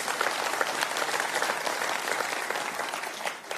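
A conference hall audience breaks into brief, steady applause during a Tory party conference speech by Boris Johnson, a dense hiss of clapping from a large crowd that holds evenly for several seconds before tapering slightly.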